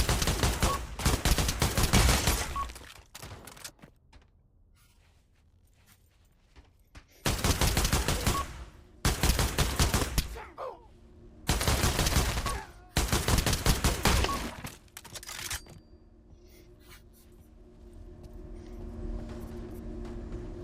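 Rifle fire from a close-quarters shooting session comparing barrel lengths in hot weather: several long, loud bursts of rapid automatic shots separated by quiet gaps, near and sharp.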